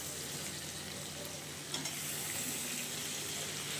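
Pumpkin pieces frying in a pan give a soft, steady sizzle and crackle that continues throughout, fairly faint and heard on its own, with one small clink partway through.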